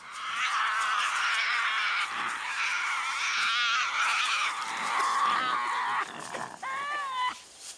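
Young Tasmanian devils screaming during a fight: loud, harsh and nearly continuous shrieking up close, with wavering rasping cries that break into shorter squeals at the end.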